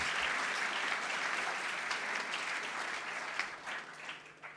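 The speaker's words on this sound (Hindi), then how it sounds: "जोरदार तालियां" Applause from an audience at a Vijay Diwas commemoration event, a dense steady patter of many hands heard fairly faintly, gradually thinning toward the end.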